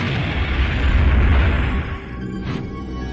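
A deep, rumbling explosion in the PS2 game Kamen Rider Seigi no Keifu, with a heavy low-end boom that swells and then fades, followed by a brief burst near the end.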